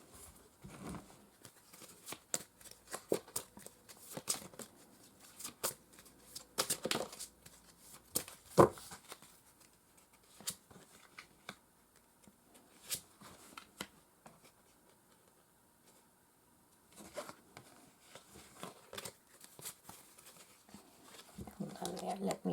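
Soft papery patter and riffling bursts of card shuffling, close by, coming in irregular spurts with quiet pauses between.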